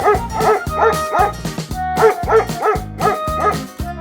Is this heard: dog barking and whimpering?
yes